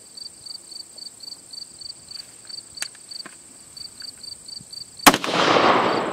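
Rifle shot fired at an AR500 steel ballistic plate: a single sharp, loud crack near the end, followed by a brief lingering wash of noise. Rhythmic insect chirping pulses steadily throughout, and there is no talking.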